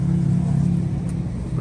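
A big Cummins diesel truck engine revs loudly and close by, a steady low rumble with strong harmonics held throughout, alone without talk, at a truck gathering.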